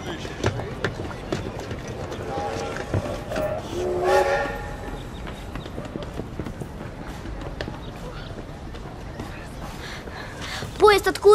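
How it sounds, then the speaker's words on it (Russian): A train rumbles past with rhythmic clatter of wheels on track, while people talk over the steady rolling noise. "Откуда поезд?"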